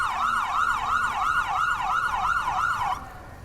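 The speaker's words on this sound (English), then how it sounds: "It's our CMP cruiser there, flashing their lights and their sirens." A police cruiser siren wails in a steady, rapid up-and-down cycle at a Santa Claus parade, loud and close, stopping abruptly near the end to leave quieter street ambience.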